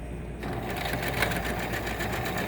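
A sewing machine running steadily on a zigzag stitch to reinforce a seam allowance, with a continuous close whirring drone and a fast rhythmic mechanical chatter throughout.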